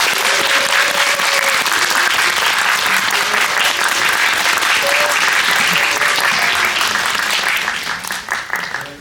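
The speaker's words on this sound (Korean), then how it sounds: "큰 박수 부탁드립니다" Loud, sustained applause from a cinema audience at a film screening event with the director and lead actor, continuous dense clapping that thins and fades out near the end.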